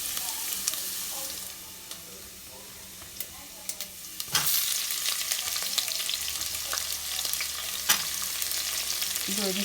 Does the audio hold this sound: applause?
no